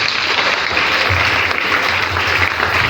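A worship congregation applauding during an evening praise and worship service, steady broadband clapping held at an even level throughout, dense and continuous with no voice over it.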